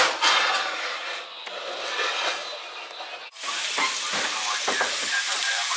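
Sausages sizzle in a pan at a lakeside lunch, a steady close hiss of frying with some stirring and clatter, briefly broken by a pause.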